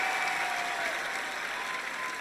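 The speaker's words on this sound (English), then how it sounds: "Please, everyone, give her a big round of applause" Audience applause at a pageant show, a steady broad wash of clapping from a large crowd that fills the whole stretch at an even level.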